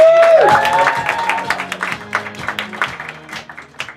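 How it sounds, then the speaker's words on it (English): Improv comedy theater audience applauding guest Audrey Murray, with a brief whoop at the start and then clapping that thins into scattered, tapering claps. "big round of applause for Audrey Murray"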